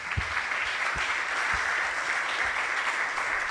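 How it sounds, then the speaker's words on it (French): Sustained audience applause after a round-table discussion on the mental side of the coach relationship, a steady even wash of many hands clapping in a hall, with a few low thumps beneath. "on va encore applaudir l'ensemble des personnes qui sont intervenues"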